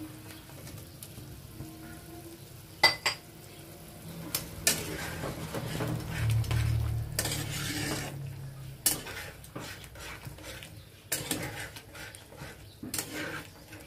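Prawns go into a pan of simmering malai curry and are stirred, with scattered close utensil scrapes and clinks against the pan over a soft bubbling bed, fairly quiet overall.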